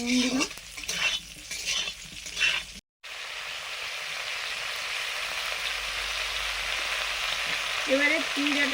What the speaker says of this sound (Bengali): আলু ভাজার সময় একটু নুন দিলাম